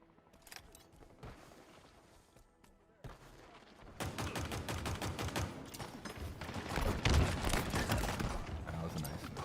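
Rapid gunfire in Halo Infinite, starting sparse and quiet, then turning into dense, loud bursts of shots and booms that dominate the second half with little pause.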